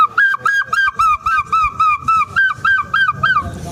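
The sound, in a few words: man imitating a seagull cry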